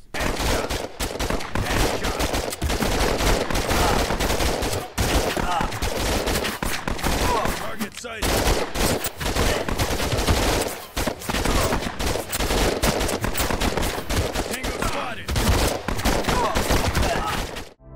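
Dense gunfire from the VR shooter Operation Serpens rattles almost without pause in loud rapid bursts and sustained automatic fire, with only brief gaps between volleys.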